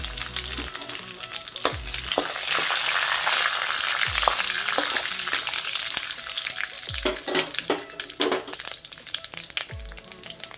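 Whole fennel seeds, cumin, cinnamon sticks and bay leaf frying in hot oil for a chicken kuzhambu, a steady close sizzle with occasional spoon scrapes and stirring clinks.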